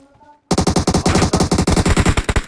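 Rapid automatic gunfire from a PUBG Mobile match bursts in after a quiet moment, a loud, near stream of shots in quick succession with brief gaps, running to the end.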